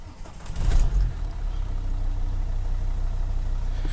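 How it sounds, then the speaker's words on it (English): A car engine turns over and fires after a canister-type fuel filter change, rising in a loud surge and then settling into a steady, close idle. "the car should start first time and continue to run."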